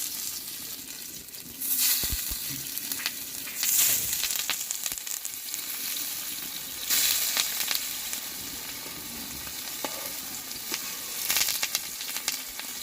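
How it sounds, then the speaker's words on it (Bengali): Drumstick and poppy seed fritters fry in mustard oil on a flat pan, giving a steady, close sizzle that swells in louder bursts as batter meets the hot oil. No voices are heard. "এরপর আমি বড়াগুলো একটা করে দিয়ে দেবো।"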